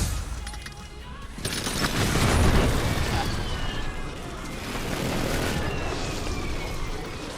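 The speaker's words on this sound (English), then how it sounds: "Enemy precision airstrike." Precision airstrike explosions in Call of Duty Warzone land in heavy rolling booms and crackling blasts, loud and sustained for several seconds, with game voices and chatter mixed in.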